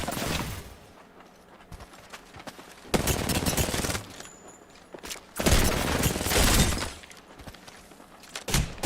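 Rapid bursts of video game gunfire from a shooter match crackle loudly, with heavy volleys around the third and fifth to seventh seconds between quieter stretches of scattered shots.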